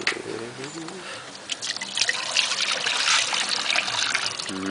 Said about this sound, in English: This is Rob trying to squeeze a few more litres out of his hop soup.